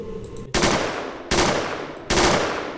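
Three sharp, loud gunshots from an automatic pistol in a Unity game, evenly spaced, each with a quick decaying tail and no voices.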